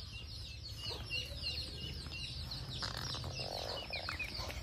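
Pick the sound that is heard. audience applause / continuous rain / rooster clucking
rooster clucking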